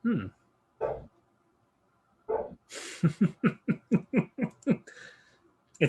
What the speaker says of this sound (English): it's probably the neighbor dog's out and they're barking at it